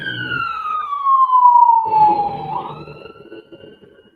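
A siren wails from outside, its tone sliding steadily downward, fairly loud at first and then fading into distant traffic rumble.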